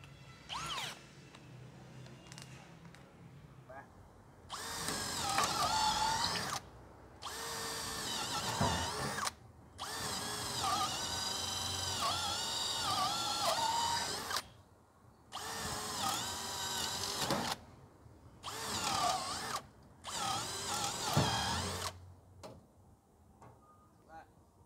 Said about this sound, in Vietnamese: Tiếp theo là mũi 10 ly khoan gỗ.